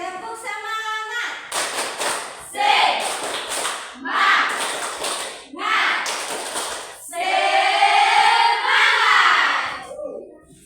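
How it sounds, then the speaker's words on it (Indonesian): A school class doing the 'tepuk semangat' rhythmic clapping, with bursts of patterned claps in several short groups alternating with the children chanting loudly together, then a longer sung stretch near the end. "Tepuk semangat dulu kalau begitu."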